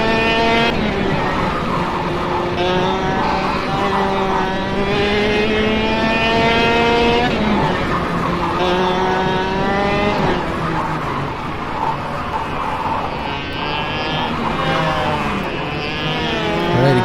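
A racing kart engine in the KartKraft game whines continuously at high revs, its pitch climbing and dropping through gear-like sweeps as it brakes and accelerates through corners, loud and close throughout.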